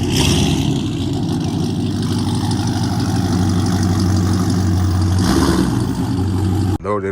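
A Ram 1500 pickup fitted with JBA long-tube headers idles with a loud, deep exhaust rumble that stays steady and close. There is a slight swell partway through, and the sound cuts off abruptly near the end.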